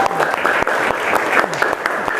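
Students applaud at the close of a civics lesson in an Indonesian classroom, a steady patter of clapping lasting about two seconds with some faint voices mixed in.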